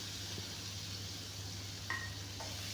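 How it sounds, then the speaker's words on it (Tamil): Onion, tomato, green chili and garlic sautéing in a pan give a soft, even sizzle under a low hum, with a couple of brief metallic scrapes near the end. "வெங்காயம், தக்காளி, பச்சை மிளகா, பூண்டை போட்டு நல்லா வதக்கிக்கணும்"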